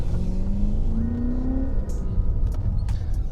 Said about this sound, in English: I love the 540 because of the sound, but also that V8 torque.